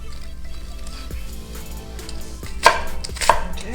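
A knife chops through a fresh onion with the root trimmed off, giving a few sharp, separate cuts on a board over steady background music.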